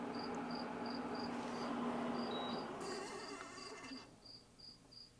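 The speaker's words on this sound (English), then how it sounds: "There's a cricket in here." A cricket chirps indoors in a room, with faint, evenly spaced high-pitched pulses repeating steadily over a low background hum.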